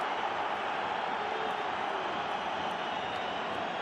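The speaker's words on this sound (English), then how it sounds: "Whistles from the crowd." Crowd at a third-division German football match between Dynamo Dresden and 1860 München, a dense steady roar of fans with scattered whistling throughout.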